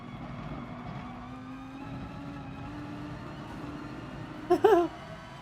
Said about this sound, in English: this car can brake so late